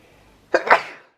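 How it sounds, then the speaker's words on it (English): A single sneeze bursts out close by after a moment of quiet, two quick explosive bursts trailing off into breath. "I gotta sneeze."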